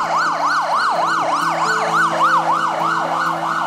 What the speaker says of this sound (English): I've sent the fire bike and ambulance.